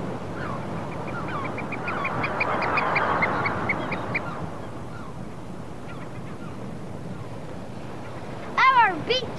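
Geese and ducks honk and call in wind on a breezy island shore, a steady flock clamour with loud nearby honks near the end.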